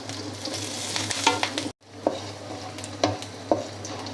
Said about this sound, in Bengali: পেঁয়াজ কুচি দিয়ে আমি হালকা ভেজে নিব